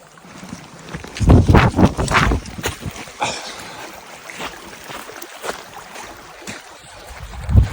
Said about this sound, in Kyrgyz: Судан секиребиз, сууга кечебиз